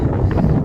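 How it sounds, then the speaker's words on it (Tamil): Strong wind gusting on a mountain trail while descending Agasthiyamalai (Agasthyakoodam), a loud continuous roar buffeting the microphone throughout. "காற்று பயங்கரமாக இருக்குது"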